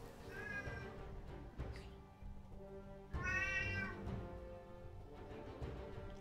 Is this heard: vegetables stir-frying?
no